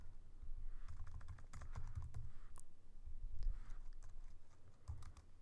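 Python code being typed on a computer keyboard: quiet, irregular clusters of key clicks with short pauses between bursts, close and faint.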